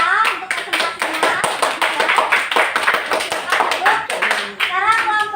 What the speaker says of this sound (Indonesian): kasih tepuk tangan untuk kelompok A untuk presentasinya